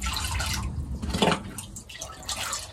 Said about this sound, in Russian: Вот 200 миллилитров я наливаю в ведро воды.